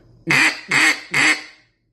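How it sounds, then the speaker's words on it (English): Three evenly spaced, loud, close quacks blown on a cut-down duck call, each a short buzzy honk of similar length, with silence before and after. "Regular quack."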